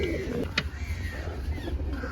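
Madrasi pigeons coo in a loft, soft low throaty rolls close by, with a short sharp flutter or click partway through and faint background murmur.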